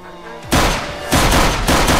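Gunfire during a shootout with robbers in Minecraft, three loud, heavy blasts about half a second apart, each ringing on until the next, after a short quieter lead-in.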